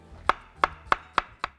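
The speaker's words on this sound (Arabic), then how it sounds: "هيو بدنا نقطعه بس هيك عشان ايش نخلطه مع السكر" A knife chops through banana on a cutting board in five crisp, evenly spaced strokes, each a sharp close knock.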